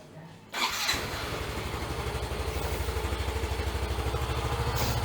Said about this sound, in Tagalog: So, start lang natin yung motor.